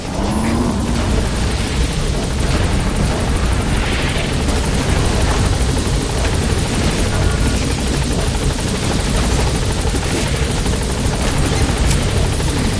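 A helicopter touches down in Metal Gear Solid V: The Phantom Pain, its loud, close rotor roar and thumping churn steady throughout with no voices.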